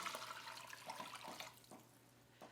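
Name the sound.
warm broth poured into chowder pot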